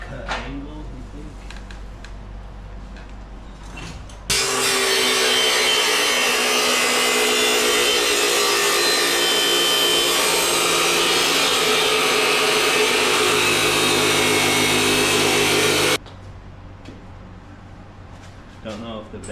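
A power saw cuts through wood at an angle, a loud steady rasping whine lasting about twelve seconds, with quieter workshop handling noises before and after.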